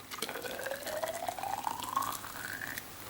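Boiled water from a kettle poured into laboratory beakers, a steady close trickle whose pitch rises as each beaker fills over about three seconds, with no voices.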